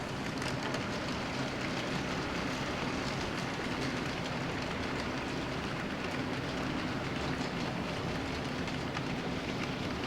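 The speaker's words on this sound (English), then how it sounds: "So this is the last mixed freight going north." A mixed freight train heads north on a model railroad layout, giving a steady, continuous rolling rumble and hiss that stays even and fairly close for the whole stretch, with no talking.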